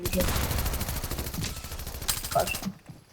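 Rapid automatic gunfire in the battle royale game Fortnite, dense bursts running nearly continuously, loud and close, with a brief sharper volley near the end before the sound cuts off; players talk in Turkish underneath.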